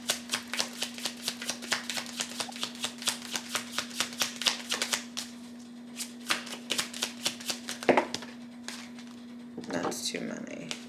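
Tarot cards being shuffled by hand, a long run of crisp, rapid riffling bursts in steady rhythm, close and clear, with a brief voice and rustle near the end.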